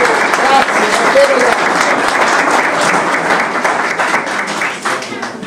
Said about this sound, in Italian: il mio primo applauso è per voi